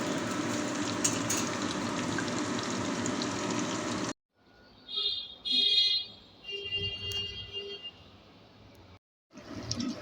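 Chicken pieces for chili chicken frying in a pan, with a dense, steady sizzle at first, then a sudden drop to quieter crackling, clinks and faint hissing bursts, with the sizzle returning briefly at the end.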